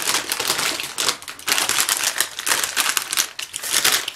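Cool Ranch and Nacho Cheese Doritos chips are crunched close to the microphone in loud, rapid bursts of crisp crackling, repeating in quick chewing rhythm with brief pauses between bites.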